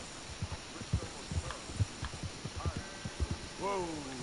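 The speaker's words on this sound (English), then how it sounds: "as I'm like galloping forward" Horse hooves gallop in a steady, clopping rhythm through Red Dead Redemption 2, loud and close against a low game hum, ending with a brief rising whinny-like tone.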